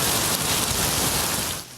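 Heavy typhoon rain pours down steadily in Taiwan as a dense, loud, continuous hiss that fades slightly at the very end.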